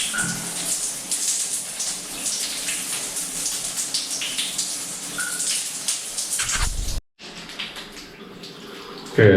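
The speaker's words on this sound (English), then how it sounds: "it's kind of gushing out water a little bit" Water gushes from a tub and shower valve as a Moen 1222 cartridge is pulled out, a steady broadband hiss running nearly throughout before a brief cutoff and a resumed, slightly quieter flow near the end.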